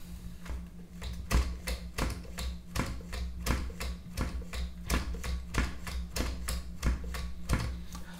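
A Mattel Stegosaurus toy's button-driven mechanism clicks and ratchets in a steady repeating rhythm of sharp taps over a low motor hum, close and moderately loud.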